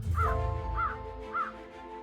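A black crow caws three times at an even pace, each call loud and clear against a low background rumble.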